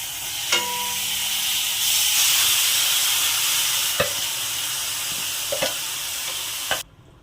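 Chicken fries in hot mustard oil in a kadai on a gas stove, with a loud steady sizzle and hiss and several sharp clinks of a utensil against the pan before the sound drops off abruptly.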